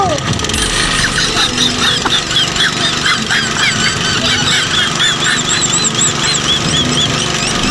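A water pump motor started with a makeshift jugaad rig runs loudly and continuously, with a squealing, honking mechanical whine over a rough engine rumble and voices mixed in.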